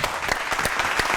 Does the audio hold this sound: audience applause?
yes